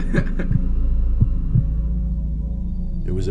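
Deep, muffled heartbeat thumps repeat in an uneven, slow rhythm over a constant low hum, fairly close and loud, with no voices.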